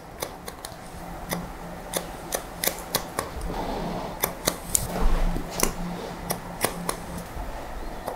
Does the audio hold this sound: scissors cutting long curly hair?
yes